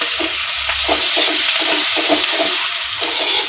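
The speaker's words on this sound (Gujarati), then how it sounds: "આપણે ડુંગળી અંદર એડ કરીશું અને 2 થી 3 મિનિટ સરસ સાંતળી લઈશું" Chopped onions sauté in hot oil over a high flame, a steady close sizzle with a few scraping stirs, no voices heard.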